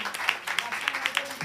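Brief, fairly faint applause from an audience after a children's dance performance at an Independence Day school cultural program. A few distinct claps stand out over a soft wash of clapping.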